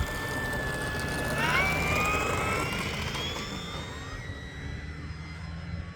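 An E-flite Focke-Wulf Fw 190A 1.5m electric RC warbird takes off on a winter day, its motor whine rising in pitch then fading as the plane climbs away outdoors.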